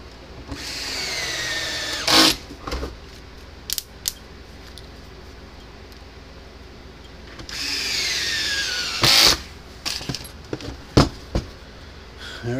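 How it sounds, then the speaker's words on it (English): A power drill drives screws back into the case of a Gallagher M600 electric fence charger. Two main whirring bursts of rising motor whine sound close up, with shorter clicks and brief tool noises between them and no talking. "Now all I gotta do is put the screws back in it."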